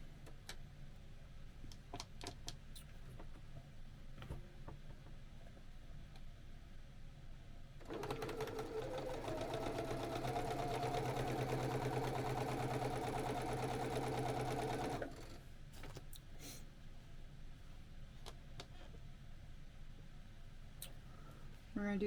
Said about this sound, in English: we are going to sew them 1/4 inch seam